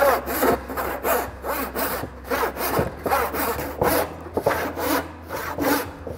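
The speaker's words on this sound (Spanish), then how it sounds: "Si nuestro brazo también va a ir descansando cada vez que echamos hacia atrás, ganamos el recorrido del serrucho." A handsaw cuts through wood in steady rhythmic back-and-forth strokes, about a dozen rasping passes, close and loud.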